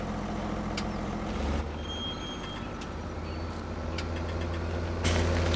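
Tractor engine idling in Farming Simulator 2017, a steady low rumble with a continuous hum that holds level throughout and swells slightly near the end.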